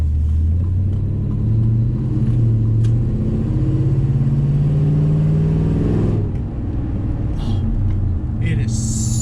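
Deep, loud rumble of a cammed Chevy Silverado V8 with dual exhaust and Venom 250 mufflers, heard from inside the cab as it revs up and settles back, with a voice talking over it.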